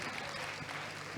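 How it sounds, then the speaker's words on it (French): Student audience at a careers discussion event gives a brief round of applause, a soft continuous patter of clapping heard from a distance. "On peut l'applaudir."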